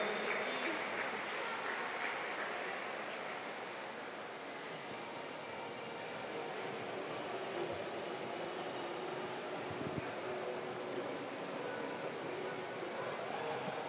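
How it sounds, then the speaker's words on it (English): Sustained applause from a swimming championships crowd in a large, reverberant indoor pool hall, a steady broad wash of clapping that holds at an even level throughout, with no break. "Big round of applause, Maya Rasmussen"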